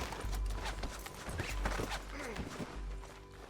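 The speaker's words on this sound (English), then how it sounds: "He's up on that horse, John." Rhythmic clip-clop of galloping horse hooves in the video game Red Dead Redemption 2, steady and fairly close, with mechanical creaks and game-like effects layered over it.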